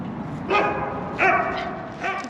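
A small dog barks three times in quick yips, spaced about two-thirds of a second apart, fairly close and alone with faint background noise.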